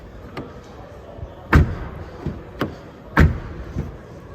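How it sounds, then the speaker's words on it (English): Two solid car door slams on a 2022 Volkswagen Taigo R-Line about a second and a half apart, each with a heavy thud, plus a few lighter clicks and taps of handles and latches in between. "Fairly good opening and closing sound we're used to in Volkswagen."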